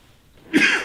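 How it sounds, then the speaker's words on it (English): A single short cough or throat clear from someone troubled by allergies, one quick burst after a near-silent moment, close to the microphone. "you may hear me sneeze, you may hear me cough"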